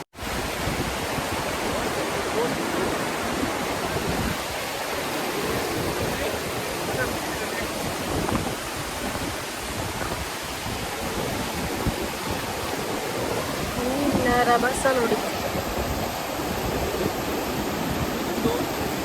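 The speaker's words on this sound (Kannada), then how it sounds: "ಆ್ಯಕ್ಚುಲಿ ಫಾಲ್ಸ್ ಅಂತ ಕರೆಯೋದು ಇದೇನೆ ಅಲ್ಲಿ ಚಿಕ್ಕದಾಗಿ ಸ್ವಲ್ಪ ಹೈಟಿಂದ ಬೀಳುತ್ತಲ್ಲ ಸೊ ಅದಕ್ಕೆ ಫಾಲ್ಸ್ ಅಂತ ಕರೀತಾರೆ" Small waterfall on the road between Sirsi and Siddapur, water falling from a modest height in a steady, close, broadband rush that runs unbroken throughout, with a brief faint sound near the end.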